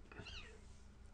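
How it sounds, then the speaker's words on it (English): Cats that have just wandered into a room where someone is working at a computer give a short meow, fairly close and moderately loud against a quiet background. "my cats just came in"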